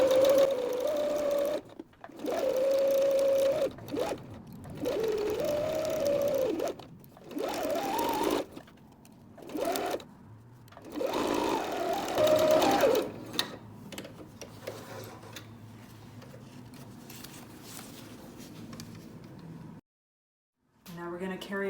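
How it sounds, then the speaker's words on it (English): A sewing machine stitches a quarter-inch seam on a patchwork tote bag, running in steady whirring bursts separated by short pauses, close and clear, then giving way to quieter handling noise near the end. "All right, off to sew 1/4 inch seam allowance."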